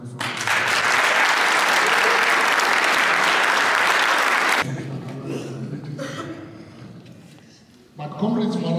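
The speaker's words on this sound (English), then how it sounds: "Jennifer Mutsai, I think it deserves a round of applause." Loud, dense audience applause at an athletic club awards ceremony lasts several seconds, then cuts off abruptly into a quieter room with light laughter before a voice starts speaking.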